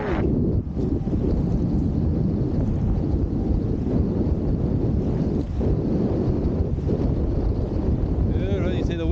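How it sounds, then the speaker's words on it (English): Gusty wind roars steadily across open water while wing foiling upwind, a dense low rumble buffeting the microphone with brief lulls and surges throughout. "It's very gusty, incredibly gusty"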